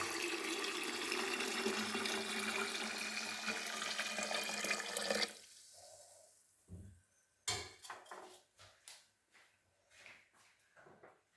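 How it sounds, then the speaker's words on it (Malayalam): Lukewarm water, about two litres, poured into a container for a homemade multivitamin drink, a steady broad splashing rush for the first half, then breaking into irregular clinks and knocks of the vessel. "ഇളൻ ചൂടുവെള്ളമാണ് ഒരു ഒരു രണ്ട് ലിറ്റർ വെള്ളം ചേർത്തേക്കാം"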